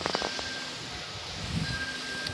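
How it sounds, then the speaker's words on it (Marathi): Strong, cold wind sweeps through a Konkan village ahead of rain, a continuous airy hiss with leaves rustling and faint gusty rumbles at the microphone. "भरपूर वारा सुटलाय, थंड थंड अगदी"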